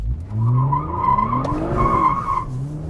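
A Toyota Camry TRD V6 with traction control off spins its tires, a close, loud squeal over a revving engine whose pitch rises and falls over a few seconds.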